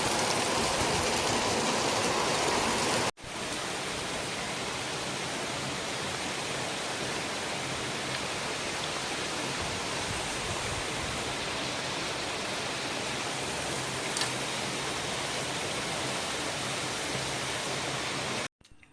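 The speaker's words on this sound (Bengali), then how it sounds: "আজও ঠিক দুপুরে আবার সেই একইভাবে বৃষ্টিটা শুরু হলো, মুষলধারে বৃষ্টি" A heavy midday monsoon downpour roars as a steady, dense wash of rain, loud and close, continuing unbroken for nearly twenty seconds after a brief cut near the start, with no voices.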